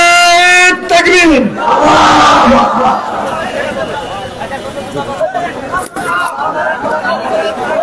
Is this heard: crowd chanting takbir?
yes